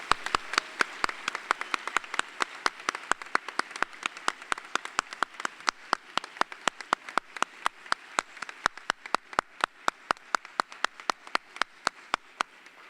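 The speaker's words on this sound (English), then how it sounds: "Please join me in a round of applause for Terry and Julian Bond." Audience applause for Terry and Julian Bond at a University of Virginia honors event, a steady crowd clapping with sharp individual claps standing out, sustained throughout without speech.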